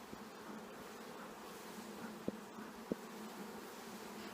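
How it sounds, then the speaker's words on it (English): Honey bees hum and buzz continuously inside a hive, a dense, even drone at low volume with a couple of faint knocks, no speech. "You can hear them buzz a little harder."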